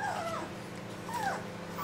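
A young female puppy, a few weeks old, whimpering softly in two thin, wavering high cries over a steady low hum.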